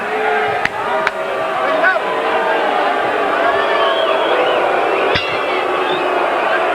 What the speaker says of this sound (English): I think they're booing the round card girl exiting the ring.